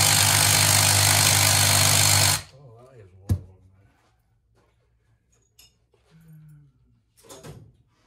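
The transaxle motor of a Go Go LX mobility scooter with a failing transaxle runs loud and steady at close range for about two seconds, then cuts off abruptly, followed by faint clicks, a knock and brief talk.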